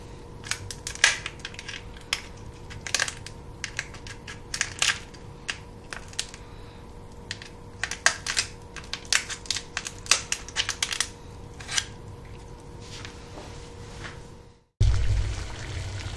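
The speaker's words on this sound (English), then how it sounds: "we used a pair of kitchen scissors" Kitchen scissors snip through the shells of lobster tails: irregular crisp crunching and clicking cuts at close range for about fifteen seconds over a low steady hum, ending in a brief louder rumble.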